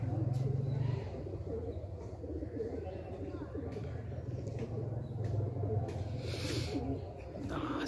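Soft, low cooing from Panja Khush pigeons, steady murmuring throughout, strongest at the start and again near the end, over a busy background of rustling and faint voices.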